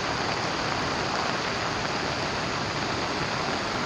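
A steady, loud roar of rushing floodwater fills the scene, broad and continuous, a swollen creek in full flood pouring over footpaths in Kalinga Park, Brisbane.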